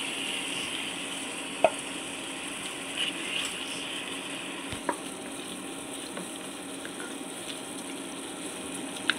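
Guchi fish (spiny eel) sizzles in a pan for chorchori, giving a steady, moderate frying hiss throughout, with a few faint clicks and a soft knock midway.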